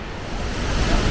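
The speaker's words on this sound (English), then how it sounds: "The water just splashed all over you." Waterfall on the Eaton Canyon trail pours and splashes in a steady, loud, close rush of water with no voices over it.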